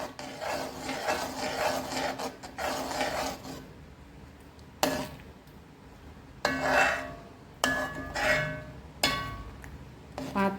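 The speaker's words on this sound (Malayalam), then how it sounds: "എന്നിട്ട് നല്ലോണം മിക്സ് ചെയ്യും" Beetroot halwa stirred with ghee in a pan, a steady scraping and rubbing of a spoon against the metal, first continuous, then in several separate short strokes with pauses between.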